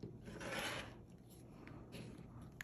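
A rotary cutter slices through a quilt fabric square, one soft rasping swipe followed by faint scraping and handling sounds, close and quiet.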